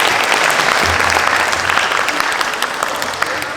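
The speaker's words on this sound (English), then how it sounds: "please you can give him a round of applause" Loud round of applause from a gathered crowd at a community childhood-obesity awareness event in Paterson, honoring a public health officer; sustained, dense clapping close by that tapers slightly toward the end.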